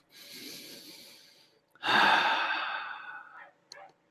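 A single deep breath, a gentle inhale followed by a long, louder sighing exhale, close and alone, with a faint short breath at the end.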